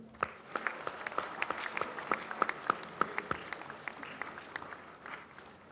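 Audience applause for the commencement speaker at the 2025 Plymouth High School graduation ceremony, a steady patter of many hands with sharp individual claps standing out, moderately distant and continuing for several seconds without talk.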